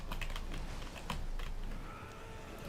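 Computer keyboard and mouse clicks from a PC gaming session, a quick irregular patter of close, crisp keystrokes and clicks, fairly quiet, with no talking.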